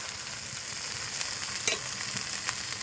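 Chicken masala fries in a pan while a spoon stirs it, giving a steady close sizzle with occasional scraping clicks and no talking.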